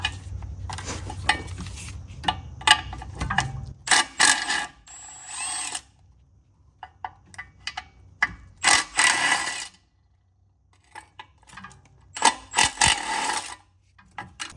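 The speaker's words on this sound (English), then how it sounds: "I'm removing these 3 bolts holding on this little heat shield" A ratchet loosens 12mm bolts on a small heat shield of a 1991-1996 Acura NSX with the 5-speed manual transmission, giving close, intermittent bursts of rapid clicking separated by short pauses and quiet gaps.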